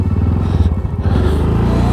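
A single-cylinder motorcycle engine revs hard nearby while riding in snow, a loud, rough, pulsing thump that climbs steadily as it accelerates.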